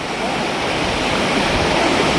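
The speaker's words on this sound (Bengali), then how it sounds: "ঝর্ণার আওয়াজ আপনারা শুনতে পাচ্ছেন।" Elephant Falls in Meghalaya roaring, a dense, steady rush of falling water filling the whole short clip, close and loud with no breaks.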